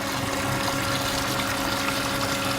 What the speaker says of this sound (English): This is the water that's coming out of the loop that we're pushing the brine in behind